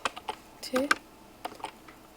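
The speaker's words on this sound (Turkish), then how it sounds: "indir oyunu yazıyoruz. Enter'a basıyoruz." Keys on a computer keyboard clatter in a short irregular burst, a handful of close, crisp clicks ending with a firmer press, with no voice over them.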